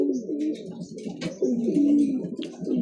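Racing pigeons coo in a series of low, soft, wavering calls close by, with a few faint chirps and rustles.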